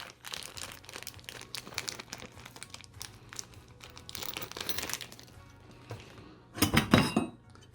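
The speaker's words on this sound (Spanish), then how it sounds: "Abrimos la bolsa y lo primero sacamos este tipo de tornillo." Small metal screws rattle and clink while being fished out of an IKEA EKET hardware bag, with plastic crinkling throughout and a louder burst of rustling and clinking near the end.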